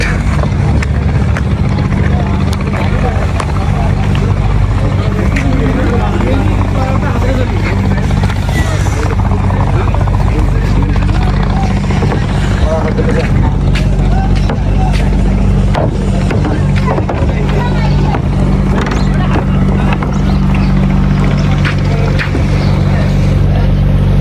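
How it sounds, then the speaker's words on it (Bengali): Speedboats fitted with Yamaha motorcycle engines roar continuously at a busy ferry ghat in Noakhali, a loud, droning engine noise that persists throughout while people talk over it. "এগুলো কিন্তু স্প্রিং বোট, মোটরসাইকেল গতিতে দৌড়ায় এগুলা"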